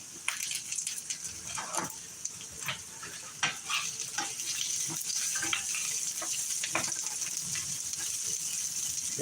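Food sizzles and crackles in a frying pan while cooking spaghetti, a close, steady hiss scattered with sharp pops and utensil scrapes, with no talking.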